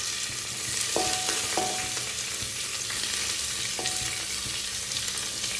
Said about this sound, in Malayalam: ഉള്ളീനെ നമുക്ക് ജസ്റ്റ് ഒന്ന് വഴറ്റിയെടുക്കാം കേട്ടോ